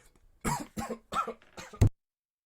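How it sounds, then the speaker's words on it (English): Four short, harsh coughs in quick succession, close and fairly loud, followed by a sharp final burst; no talking. "He's just started coughing up a storm"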